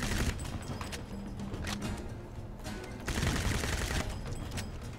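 Gunfire in Crysis 1 multiplayer on the Steelmill map: dense, rattling volleys of shots in two sustained bursts, with a short lull between them and no talking.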